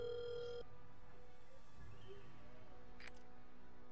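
A faint phone tone plays at the start while a call is being placed during a Rainbow Six Siege session, followed by low background noise and a brief bright click or beep near the end.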